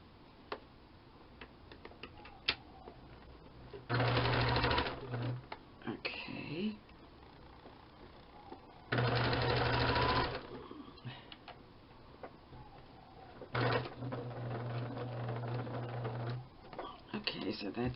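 A sewing machine stitches lace onto lavender sachet fabric in three separate runs of rapid, steady mechanical whirring, close and clear, with quiet pauses between runs.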